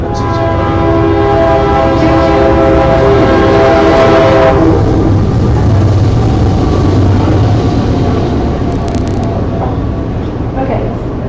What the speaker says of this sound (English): Oh my gosh, here comes the train.